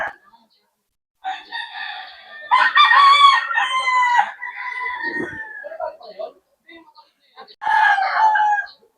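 Fighting roosters kept by a backyard breeder in Sorsogon crow loudly and close in a chicken pen, several drawn-out calls in bursts separated by quieter clucking and pauses.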